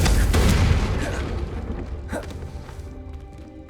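Confringo blasting spell in Hogwarts Legacy, a single deep, loud explosive boom at the start that rumbles and decays over a few seconds, with faint game sounds after.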